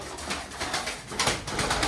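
Tumbler pigeons cooing softly in a steady, murmuring chorus, with a few louder throaty coos rising near the end.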